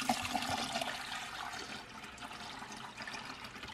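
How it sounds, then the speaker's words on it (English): New water poured into a pet jellyfish tank, a continuous splashing, gurgling rush that is strongest at the start and settles into a steadier flowing wash, heard alone. "Now we pour our new water in without disrupting the jellyfish."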